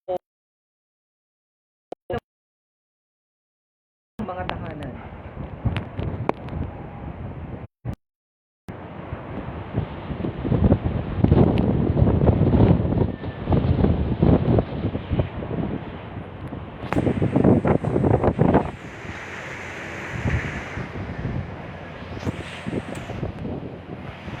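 Strong typhoon wind roars and buffets the microphone in surging gusts, rising and falling over a long stretch, with brief dropouts early on.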